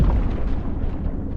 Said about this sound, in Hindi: तभी अचानक एक तेज धमाका हुआ